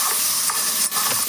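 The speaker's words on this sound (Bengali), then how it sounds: "মাছগুলোকে তেলের মধ্যে দিয়ে লাল লাল করে ভেজে নেব" Fish coated with turmeric and salt frying in hot oil, a steady bright sizzle and hiss with a few short crackling spurts, close and constant for a brief moment.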